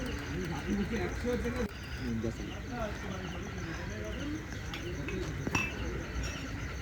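Pigeons, including a cotton-white pigeon, coo softly and repeatedly while feeding, their low throaty calls steady throughout alongside faint chirps and a brief clink.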